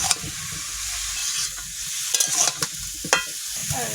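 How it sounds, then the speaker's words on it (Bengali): Vegetables with salt and turmeric are stirred in a hot pan, a close bright sizzle broken by several scraping, knocking strokes of the spoon, with no talking. "লবণ, হলুদ, নাড়িয়ে চাড়িয়ে"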